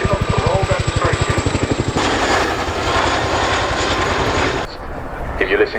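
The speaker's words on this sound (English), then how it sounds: "If you listen closely, you can hear the gearboxes working just that little bit harder as they cater to the extra weight." An RAF Chinook helicopter at an airshow display, carrying an underslung load, gives a loud continuous rotor roar that opens with rapid blade chop and then settles into a dense, steady drone for several seconds.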